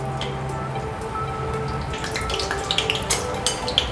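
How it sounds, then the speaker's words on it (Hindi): Sweet potato gulab jamun bubble and crackle in hot oil, a soft continuous sizzle with scattered sharper pops toward the end, close and moderately loud over a faint low hum. "इस तरह से बाकी के गुलाब जाम भी हम फ्राई कर लेंगे।"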